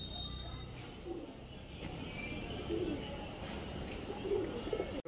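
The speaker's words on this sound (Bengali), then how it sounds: "এরম ছাদের মধ্যে অনেক পায়রা আছে" Pigeons coo softly on an open rooftop under a cloudy sky, a few low murmuring calls surfacing now and then over a steady outdoor background hum.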